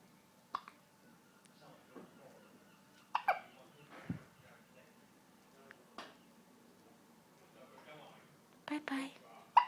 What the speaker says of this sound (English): They're most annoying, aren't they, when you have hiccups?